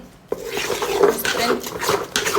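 A spoon scrapes and stirs besan flour dry-roasting in a pan for ladoos, with steady rubbing strokes close up.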